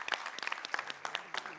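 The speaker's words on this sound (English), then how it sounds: "Big round of applause for them." A brief burst of clapping from a small conference audience, quick and bright, fading after a moment.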